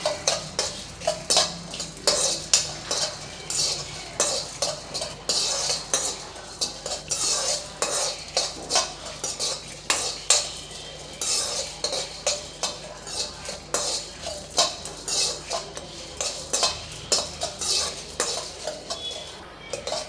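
Dried red chillies dry-roasting in a pan, stirred steadily with a metal spoon: continuous rhythmic scraping and clinking against the pan with a faint sizzle underneath, close and without talk.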